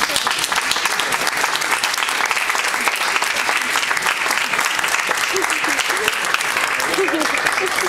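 Steady, dense applause from a large audience, clapping continuously at an even level throughout.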